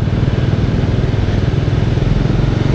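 A Bajaj Dominar 400 motorcycle rumbles loudly and steadily at low speed while squeezing through slow traffic in a bike lane, its close engine pulsing with a dense, throbbing beat.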